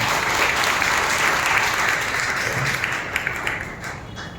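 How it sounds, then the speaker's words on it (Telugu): A church congregation claps loudly during Sunday worship, dense sustained applause that thins toward the end into a few scattered claps. "బిగ్గరగా చప్పట్లు కొట్టి ప్రభువును బయటపరచండి."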